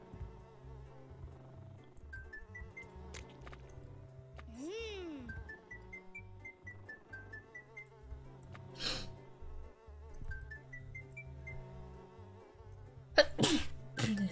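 A hornet buzzing in a video game, its short whining drone rising over bouncy game music and electronic effects, with a person talking over the play.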